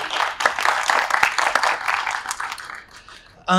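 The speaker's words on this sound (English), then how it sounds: "if we could give them a round of applause for their labor" A crowd applauds steadily at a college poetry reading, dense clapping that fades toward the end before a voice cuts in.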